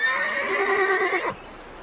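A horse gives one loud, close whinny lasting just over a second and ending in a falling note, with a quiet pause after it.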